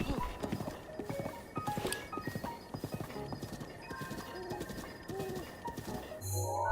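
A horse trotting in Zelda: Breath of the Wild, its clip-clopping hooves rapid and even with a whinny and faint game sounds around it, ending in a brief chime.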